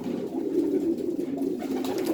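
Pigeons coo continuously in a loft, a low throaty murmur of several birds close by with no voices over it.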